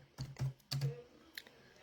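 Several quick keystrokes on a computer keyboard, a short burst of three or four taps, a pause, then one more faint tap, close and fairly quiet with no talking.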